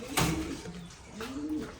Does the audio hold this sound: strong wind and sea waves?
no